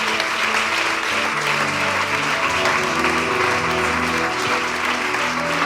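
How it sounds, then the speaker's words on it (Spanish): Strong, continuous applause from a church congregation, steady dense clapping with sustained tones of music or voices running beneath it. "Dale otro aplauso fuerte al Señor"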